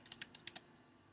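Quiet, close typing on a computer keyboard: a quick run of about six light key clicks, a short pause, then one firmer keystroke, with no talk.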